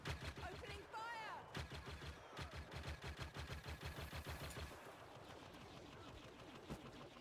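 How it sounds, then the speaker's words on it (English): Rapid blaster fire from Star Wars Battlefront, a dense stream of repeating shots for most of the stretch, loud and close, with a few spoken voices and whooshing game effects mixed in. "Opening fire!"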